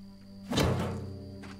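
A single dull, hollow knock lands on an empty fuel tank in a video game, one short close thunk in a quiet room.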